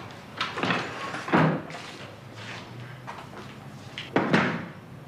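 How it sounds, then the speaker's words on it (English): A door is shut in a quiet room, giving a few muffled thuds and knocks spread over several seconds, with the loudest bangs near the start and again near the end. "Shut the door."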